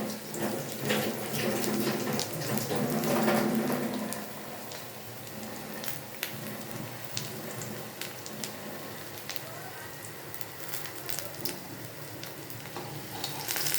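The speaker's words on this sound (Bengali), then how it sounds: "এপিট ওপিট করে ভালোভাবে বড়াগুলোকে ভেজে নিতে হবে।" Jute leaf fritters frying in oil on a lowered flame, giving a continuous, fairly quiet crackling sizzle, fuller at first and then settling into a steady hiss.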